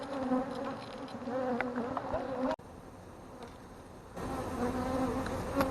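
Swarm of honey bees buzzing densely around a huge hive about six feet long in an old school building, a steady close drone with no voices.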